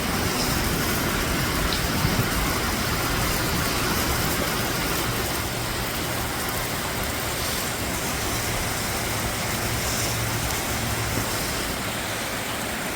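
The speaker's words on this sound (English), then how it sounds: "SNG on the road in the rain." Heavy rain falls steadily on the road, a dense unbroken hiss and patter of drops with a faint low rumble beneath, loud and close throughout with no talking.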